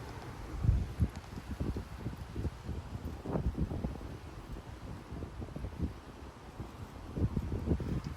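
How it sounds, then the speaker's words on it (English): Strong 40-50 mph wind gusts in Frisco, Texas, roaring and buffeting against the microphone in low rumbling surges that rise and fall, with rustling and no voices. "These are some extreme gusty winds."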